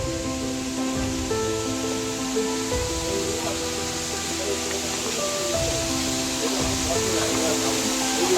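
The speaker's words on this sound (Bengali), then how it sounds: "আমরা ঝর্ণার একদম কাছে চলে এসেছি। এই হলো ঝর্ণা" Chakratirtha waterfall roaring up close, a constant broadband rush of falling water with voices talking faintly underneath.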